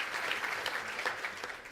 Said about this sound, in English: Give them a round of applause just for that.